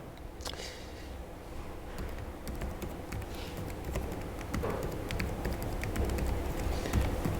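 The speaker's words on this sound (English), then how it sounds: "maybe I should not speak while typing this" Rapid clicking of computer keyboard keys in an irregular patter, moderately close, over steady room noise during a masterclass lecture, with no talking.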